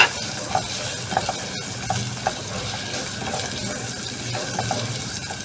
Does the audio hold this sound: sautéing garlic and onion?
yes